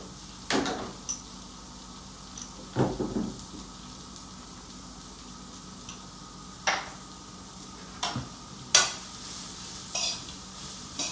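Carrots fry in a pan with salt for sabudana upma, with a quiet background sizzle and scattered spatula stirs and scrapes against the pan at irregular moments.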